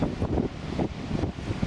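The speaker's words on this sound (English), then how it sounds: "Pretty windy." Gusty wind at Girvan Harbour on a cold, blustery afternoon, a steady broadband rush buffeting the microphone with rising and falling swells throughout, no voices over it.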